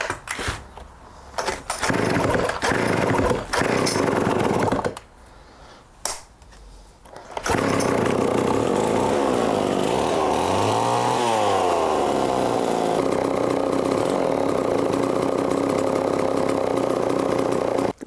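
A vintage Remington PL-4 chainsaw in a shop sputters through several start attempts with gaps of quiet, then catches and runs loud and steady, its pitch rising and falling as the throttle is worked.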